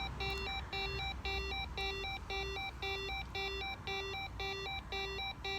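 A telephone ringback tone repeats in steady, evenly spaced pulses over a low background hum, with no talking.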